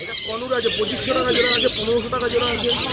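Budgies and lovebirds at a busy bird market chirp and tweet in a dense, overlapping chorus close by, with soft cooing and people talking in the background.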